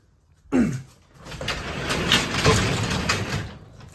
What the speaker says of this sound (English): Open that garage door right there.